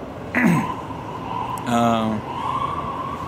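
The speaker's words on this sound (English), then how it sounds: "Ambulance." An ambulance siren wails on a busy New York street near the Occupy Wall Street protest, a rising and falling tone in the distance, heard beneath someone talking nearby and steady city traffic noise.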